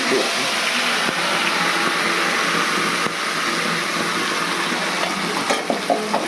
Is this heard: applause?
no